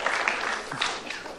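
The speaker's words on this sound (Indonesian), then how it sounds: "Kita berikan tepuk tangan." Audience applause at a motivational seminar, a short burst of steady clapping from a seated crowd, moderately loud, briefly filling the room without speech.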